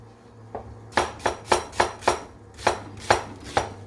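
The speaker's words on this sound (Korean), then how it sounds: "양파 먼저 썰겠습니다." A knife chops onion on a cutting board while tofu cooks for Korean braised tofu: one light tap, then a steady run of about nine sharp, close, evenly spaced chops.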